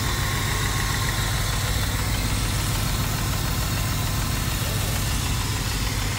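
A BMW E34 engine with an oil-burning fault idles steadily up close: a constant low rumble with an even mechanical chatter and no voices over it.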